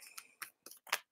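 Tarot cards being shuffled by hand, a handful of short crisp riffling bursts in quick, uneven succession, close and fairly quiet with brief silences between.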